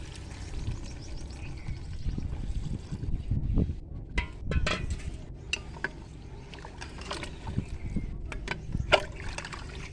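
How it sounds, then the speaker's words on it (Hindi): Water pours into a cooking pot of beef trotters (paye), a close, irregular trickle and splashing with clinks of the pot that carry on for several seconds. "सब मैं इसमें पानी डाल दूँगी।"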